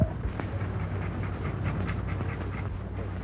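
Dog shut inside a present box pants rapidly and steadily at close range, with a faint whimper mixed in and no talking.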